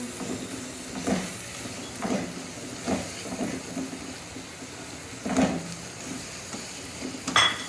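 Spices, cumin paste, dried coriander and black pepper stirred into white karahi in a pan, giving soft, irregular scraping strokes over a steady low sizzle, moderately close with no talking.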